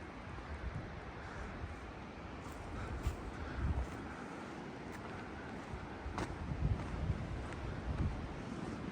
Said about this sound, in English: Definitely windy up there.